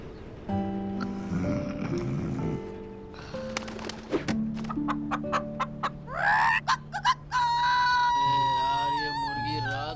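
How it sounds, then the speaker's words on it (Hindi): A cartoon rooster crows in an animated Hindi series episode, its rising and falling calls set among musical tones and comic sound effects. "क्यों बांग दे रही है?"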